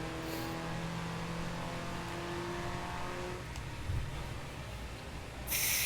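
A car engine in the video game Forza Horizon 3 holds a steady, droning note that gradually falls in pitch, then roughens and surges louder near the end.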